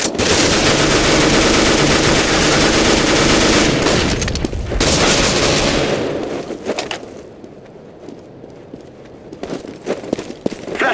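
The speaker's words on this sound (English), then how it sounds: "Deploying flashbang." Rapid bursts of automatic gunfire and a loud flashbang blast in a CS:GO match, dense and continuous for several seconds before cutting to quieter sporadic shots and ringing.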